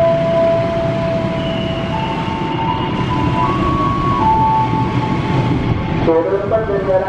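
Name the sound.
train passing straight through on track 4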